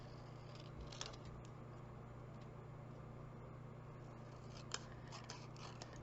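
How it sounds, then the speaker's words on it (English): Scissors cut through paper for a card-making craft project, soft close snips that come faint and sparse over a low steady background hum, with no talking. "And we're just going to cut with our scissors."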